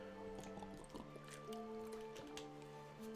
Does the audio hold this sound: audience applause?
no